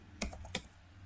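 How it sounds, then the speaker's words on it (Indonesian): A couple of quiet, close keystrokes on a computer keyboard while a router command is typed, two crisp clicks with a softer tap between them over faint hum. "Kita dengan ketikkan perintah router"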